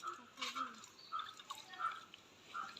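Tap water runs over fish being rinsed in a home kitchen for an Odia fish curry, heard as faint, uneven dripping and trickling with soft splashes, low in level throughout.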